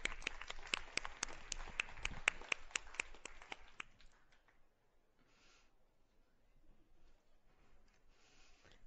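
A small group claps to congratulate a colleague called to the front, a brief round of sharp, quick hand claps that dies away after a few seconds, leaving faint room noise and a couple of soft, distant sounds.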